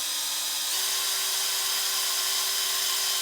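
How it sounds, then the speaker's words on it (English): A power drill bores into the middle of a wooden board, a steady high whine with a slight pitch shift early on, running continuously and fairly loud throughout. "I usually take and I go to the middle of my board and I drill in."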